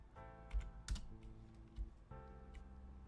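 Computer keyboard typing, quiet and close, a few soft key clicks spread over a low steady hum, no voices.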